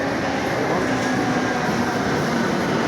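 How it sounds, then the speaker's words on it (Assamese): A metro train rushes in at speed, a dense, loud, continuous roar of rolling wheels and rail noise filling the whole span without letting up. "এখন মেট্ৰ' আহিলে বহুত স্পীডত আহিছে মেট্ৰ'খন।"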